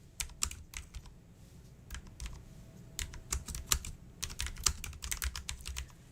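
Fingers clatter across a computer keyboard while a social media post is typed, quick irregular clicks coming in bursts with short pauses, close and alone with no talking.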